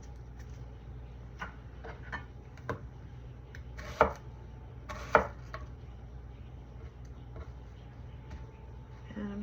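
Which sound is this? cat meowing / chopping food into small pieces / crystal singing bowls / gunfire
chopping food into small pieces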